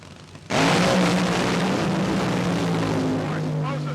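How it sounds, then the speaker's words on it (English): Funny Car drag racers Chuck Etchells and John Force launch at the Castrol Can-Am Nationals at London Motorsports, a sudden deafening roar that bursts in after a brief quiet and holds loud and rough, with a commentator talking under it. "Force throws a supercharger right out of the starting gate"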